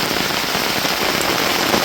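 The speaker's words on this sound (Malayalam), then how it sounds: "സൂപ്പർ മഴ പെയ്തുകൊണ്ടിരിക്കുകയാണ്." Heavy summer rain pours down steadily, a dense, even hiss of drops drumming on surfaces close by, continuous and loud with no pauses or voices.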